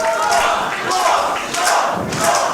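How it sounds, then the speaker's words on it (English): Wrestling crowd at a UKPW match chants rhythmically in loud bursts behind a wrestler, with a thud or two between the surges. "The crowd is very much behind Roth."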